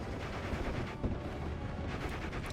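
Aircraft M2 HB machine guns and 20mm cannon fire in the WWII strategy game Steel Division: Normandy, heard as a continuous, rather faint and distant rattle of overlapping bursts with no voices.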